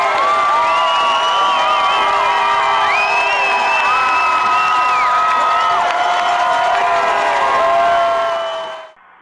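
A large crowd at a state championship high school football game cheers and shouts continuously, with whoops and children's voices rising and falling before the noise cuts off near the end.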